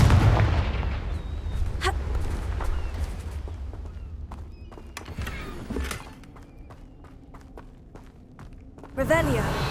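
In Hogwarts Legacy, a Confringo fire spell goes off as a booming magical blast, and sharp bursts and crackles follow over a low rumble amid footsteps and game effects.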